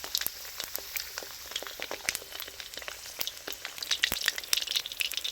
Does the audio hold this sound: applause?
no